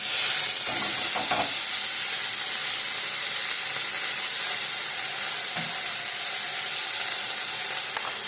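Chopped cabbage goes into a hot cumin, mustard seed and asafoetida tempering, and a loud, continuous sizzle and hiss fills the clip with a few stirring knocks near and no voices.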